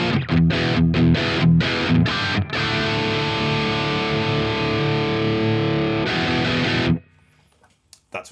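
Electric guitar through the ML Sound Lab GNR amp sim plugin on its default setting: heavily distorted, loud chugging chords with short choppy stops, then a long sustained chord cut off abruptly into near silence.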